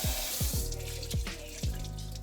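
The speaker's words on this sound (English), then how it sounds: "you're gonna run cold water over it until all the hot water is out of the pot" Cold tap water runs into a pot in a kitchen sink, a steady close rush broken by several regular gurgling splashes as the flow strikes the pot, with no talking.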